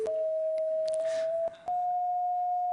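A sustained pure electronic tone from a head-worn color sensor, sounding the note for grass, starts slightly lower, settles into a steady pitch and steps up a touch after a brief dip, with faint clicks throughout.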